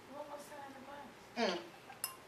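Glasses of wine clinking together in a toast at home during Sunday cooking, a short bright clink after some talk, followed by a fainter second chink.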